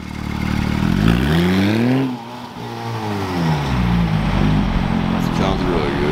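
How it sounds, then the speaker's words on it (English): Ferrari engine (rear carbon wheels, a LaFerrari-type supercar) revving hard on a wet street, loud and close, with a rising, falling and rising-again pitch over about six seconds while people talk around it. "Give her a little rev."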